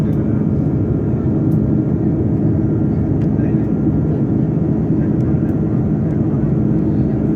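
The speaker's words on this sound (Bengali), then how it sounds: "প্লেন চলতেছে" Steady, loud low roar fills an airplane cabin in flight above the clouds, continuous and unchanging throughout.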